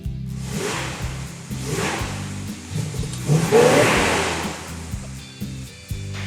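A 383 Super Commando V8 car engine revs with a low, dull, tough rumble, several swelling throttle blips rising and falling close by, with no speech.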